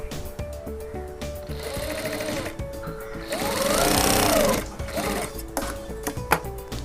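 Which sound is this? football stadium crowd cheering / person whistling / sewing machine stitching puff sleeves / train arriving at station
sewing machine stitching puff sleeves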